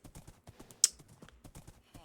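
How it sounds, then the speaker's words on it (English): Horse hooves clopping in a Minecraft hardcore world as a slow horse is ridden, a steady, moderately close patter of light hoofbeats with one sharp click in the middle. "Well, yeah, this horse isn't very fast."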